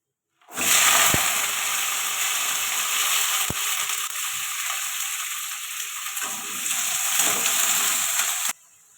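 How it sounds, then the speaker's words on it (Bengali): Carrots and peas land in hot oil in a wok and burst into a loud, continuous hiss and crackle that holds for about eight seconds before cutting off abruptly, with no voices. "কড়া বসিয়ে দিয়েছি, তেল দিয়ে দিলাম, গাজর আর মটরশুঁটিটা দিয়ে দেবো।"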